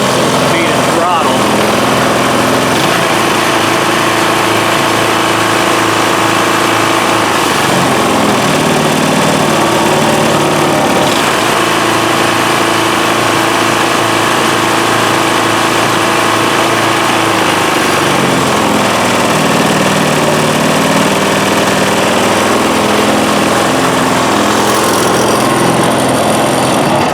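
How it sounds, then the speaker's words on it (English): A DR Powerwagon dump cart's small engine runs loud and close for the whole stretch, its pitch rising and falling as the speed and throttle are adjusted. Voices come through at times over the engine. "we got it running, and I was playing around with the engine speed and throttle"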